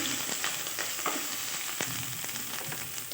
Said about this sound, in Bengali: এখানে একটু জিরে ফোড়ন দেবো, সাইডে তেল আছে দিয়ে দেবো